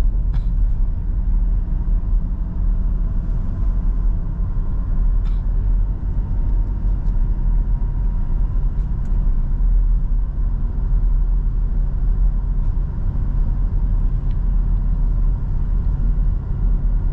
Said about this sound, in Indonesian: Oke, kita tambah gas sekarang. Pindah gigi 3, tengah, depan.